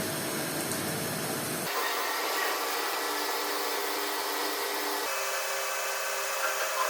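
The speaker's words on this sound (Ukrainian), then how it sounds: "попередньо вже, звичайно, поцентрував і починаємо сверлити в другу сторону" A drill whines steadily while boring a metal part for a quadcopter along a second axis, with a sharp shift in tone partway through as the cut changes, close and continuous with no voices.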